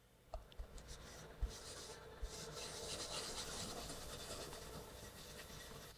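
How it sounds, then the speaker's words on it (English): Wood being polished by hand, a soft continuous rubbing and rasping close by, with a few small knocks early on before the friction settles into a steady hiss; quiet overall and without speech. "Polishing, polishing, polishing. Polishing."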